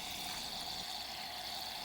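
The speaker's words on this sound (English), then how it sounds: "Gently squeeze the trigger to fill the glass with soda water and give a little stir" Soda water hisses and fizzes steadily from a CO2 cartridge soda siphon into a glass: a close, continuous bright spray with no pauses.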